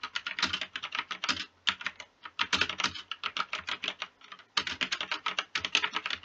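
Rapid, steady typing on a computer keyboard while writing Python code, with dense bursts of close clicking keystrokes broken by brief pauses.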